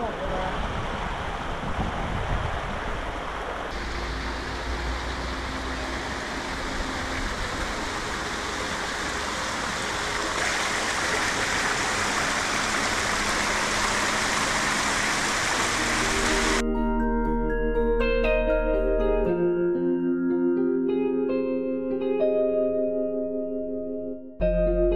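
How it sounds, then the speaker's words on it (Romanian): A waterfall beside the Transalpina mountain road in Romania gives a steady, loud, broadband rushing roar for about sixteen seconds, and then music takes over. "Aici o frumoasă cascadă ce poate fi admirată chiar de pe"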